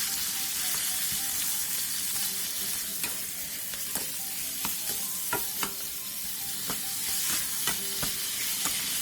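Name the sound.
pork shoulder and sugar stir-frying in an oiled pan over high heat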